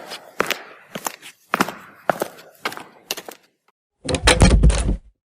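A series of sharp knocks and steps is followed by a door closing with a dense, loud thud near the end, heard close and without any talking.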